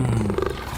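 A lion gives a single deep, loud roar heard up close, a sustained rumbling growl that holds steady and then trails off.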